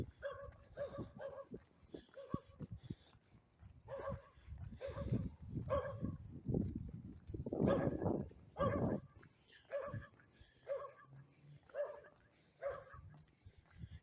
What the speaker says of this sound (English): He's wheezing as he barks. A growl bark.